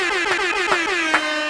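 A loud air horn blasts repeatedly in quick succession, a series of brassy, slightly descending honks with no talking.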